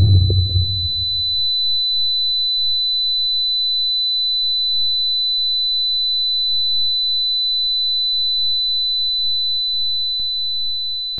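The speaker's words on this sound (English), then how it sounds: "there will be a loud ringing, so beware." A loud, sustained high-pitched ringing tone from a short film runs unbroken and steady throughout, after a brief low rumbling thud at the start.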